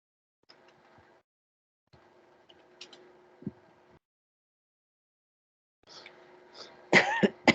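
Several coughs and sneezes burst out near the end, loud and close, after quieter stretches of low mechanical hum.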